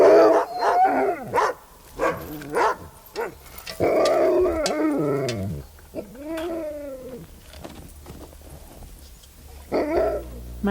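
Sled dogs in an outdoor dog yard bark, yelp and howl in bursts, several animals calling at once and close by, with excited whines between barks and a short lull before a final round of barking.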